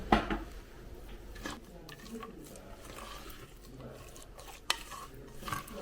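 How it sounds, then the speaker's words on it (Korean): A spatula stirs carrot cake batter with walnuts in a bowl, giving quiet scraping and soft knocks against the bowl under a nearby speaking voice. "그냥 일단 대충 주걱으로 섞을게요."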